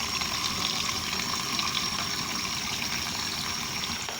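Tap water runs steadily into a bottle, a continuous close hiss and splash that holds at an even level throughout, with no talk.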